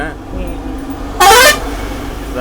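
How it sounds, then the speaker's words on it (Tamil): A vehicle horn honks once, loud and close, for about a third of a second on a ghat section hill road, over steady engine rumble inside the vehicle. "அண்ணா ஒரு ஆரன் போடுறாரு பாருங்க ஏறும்போது"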